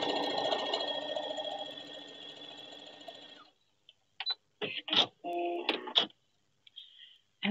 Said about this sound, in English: And just sew a bunch of these together, making sure that they are lined up nicely.